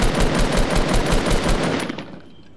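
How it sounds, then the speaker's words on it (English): Rapid automatic AR rifle fire in a PS4 shooter game, a loud dense burst of shots that cuts off and fades out near the end. "Why would you shoot your AR?"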